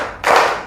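A single hand clap in a children's counting game, sharp and close, standing alone with no talk.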